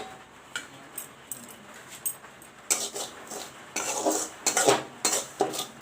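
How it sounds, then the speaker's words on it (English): Semolina (suji) roasting in oil in a karai is stirred with a utensil, giving close, intermittent scraping and metallic clinks in uneven strokes, growing louder and busier over a faint sizzle. "Put the suji in and broil it."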